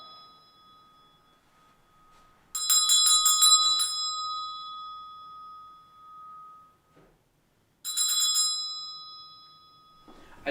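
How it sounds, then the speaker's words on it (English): An old hospital nurse-call bell in a haunted octagon-shaped hall rings in two bright, metallic bursts, each about a second long, separated by a quiet stretch, loud and nearby. "this bell is just making everything so much more creepier for me"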